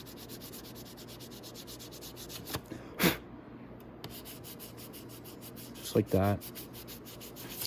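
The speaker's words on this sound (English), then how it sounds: "give it a quick sand over the top like this, just for any little imperfections." Hand sanding over a part from a Venom 250cc Villain chopper motorcycle: steady rhythmic close scraping strokes throughout, broken by a few brief clunks and a short spoken phrase.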